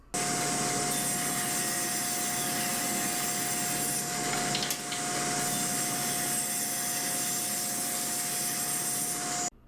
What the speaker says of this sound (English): cutting it down at the table saw